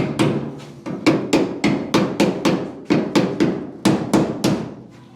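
Hammering on metal during welding and bodywork on a Camaro: sharp, ringing blows struck in quick clusters of two to four, loud and close, with short pauses between bursts and no voices.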